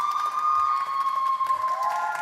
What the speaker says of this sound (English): You get an applause for that shit